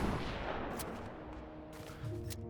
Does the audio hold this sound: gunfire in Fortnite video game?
yes